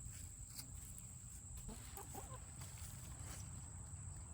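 Young chicks about six weeks old cluck and peep softly in a small chicken tractor, faint and scattered over a steady background hiss.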